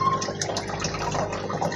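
Water pours and splashes through the filter of an Oscar fish tank, a close, continuous trickling and gurgling flow with small drips.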